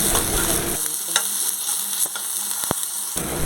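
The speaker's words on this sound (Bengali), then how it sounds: "ডাঁটা আর আলুটা ভালোভাবে ভাজা হয়েছে নাকি একটু উল্টে পাল্টে দেখে নিচ্ছি" Potatoes and vegetable stems sizzle loudly in a pan while a utensil stirs and knocks against it, giving several sharp clacks over the continuous frying hiss.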